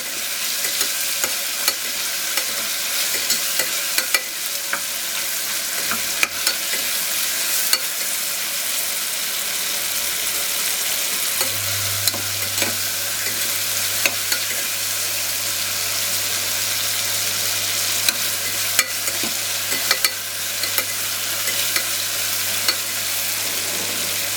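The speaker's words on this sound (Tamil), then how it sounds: "தக்காளி நல்லா வதக்கணும்." Tomatoes sautéing in a pan for a South Indian tamarind curry with mixed vegetables: a steady, close sizzle and crackle with occasional stirring scrapes, continuous and without voices.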